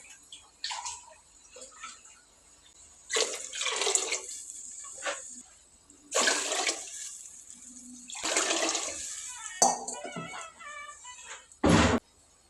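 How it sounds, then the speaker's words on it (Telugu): Water is poured in several separate splashing bursts into a pot of soaked rice, with quieter trickles and drips in between and no voices. "5 జగ్గులు పోసుకోవాలి నీళ్ళు."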